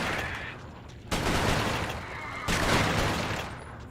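Bursts of gunfire at spiders in the video game Resistance: Fall of Man, two loud volleys breaking in about a second and a half apart and holding steady, close and dense, with no talking.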